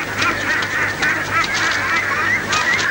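Farm ducks calling in a steady, busy chorus of honking quacks, several birds overlapping at close to mid distance with no talk.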